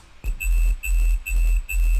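A synth bass pulses in four heavy, deep sub-bass bursts, wobbling in a steady LFO-driven rhythm, with a faint high tone running above it.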